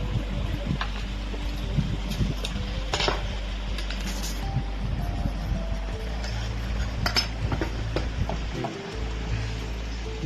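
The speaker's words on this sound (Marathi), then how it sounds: "आता आपण प्लेट काढून शटलचं टायमिंग फिक्स करणार" Metal parts clinking and tapping as the needle plate is taken off a sewing machine to fix the shuttle timing, with scattered sharp clicks over a steady background hum.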